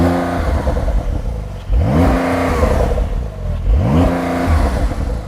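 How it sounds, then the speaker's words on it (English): A car fitted with a £2,180 sports exhaust system idles, then is revved twice in quick succession, each loud rising blip climbing and falling back to idle, close by with no talk. "Start the car up, give it some revs."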